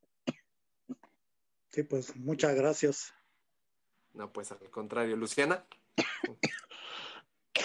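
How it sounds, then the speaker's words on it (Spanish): Coughing fit from a man during a Mexican oral storytelling chronicle event, a few short coughs at the start followed by conversational talk between speakers. "Me agarraron en el ataque de tos."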